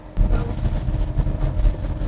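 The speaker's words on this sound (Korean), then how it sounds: "바로 언덕에 진입하자마자 엔진으로 구동이 되고 있는데요" A Renault Arkana hybrid's engine cuts in while climbing an 18-degree hill with the air conditioning running: a steady, fairly loud low rumble with broadband road and wind noise, no voices.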